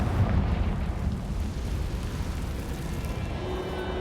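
Deep, rumbling blast of a Confringo fire spell exploding in the Hogwarts Legacy video game, a sustained booming roar that fades slightly into a steady low rumble.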